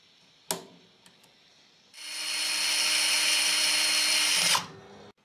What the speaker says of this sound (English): I'm going to go ahead and drill a hole on the opposite side that's a little bit better